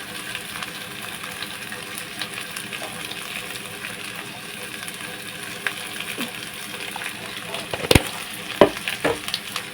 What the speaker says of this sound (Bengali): তারপর দিচ্ছি এই যে লঙ্কার গুঁড়ো দিচ্ছি অল্প করে